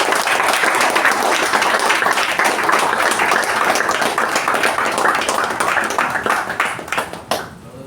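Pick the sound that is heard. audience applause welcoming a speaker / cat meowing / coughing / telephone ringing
audience applause welcoming a speaker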